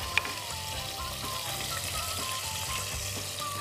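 Tomato sauce for cod is gently warmed and stirred in a pan, giving a steady soft sizzle with faint scraping and stirring sounds throughout, close and continuous.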